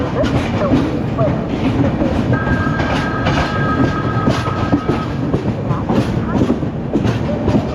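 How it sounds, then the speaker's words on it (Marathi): Mandovi Express running on rails after leaving Chiplun, heard from inside as a steady, loud rolling rumble with rhythmic wheel clatter and a brief whine partway through; faint voices mix in. "आता चिपळूणवरून गाडी सुटली आहे"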